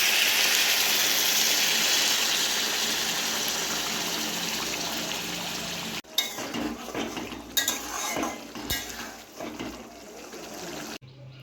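Hot water pours steadily and continuously into a pan of jackfruit and shrimp curry for several seconds, then stops, followed by close clinks and scrapes of a utensil against the pot, with no talk.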